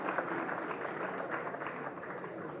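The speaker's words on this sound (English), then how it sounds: "a round of applause for our" Audience applause at a leadership summit conference session, a steady dense wash of clapping lasting the whole short stretch, moderately loud with no talking over it.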